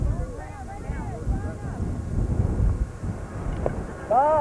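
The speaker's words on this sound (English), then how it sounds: "Wind gusting very briskly." Brisk wind gusts buffet the microphone at an outdoor amateur softball game, a steady low rumble running throughout, with faint voices in the background.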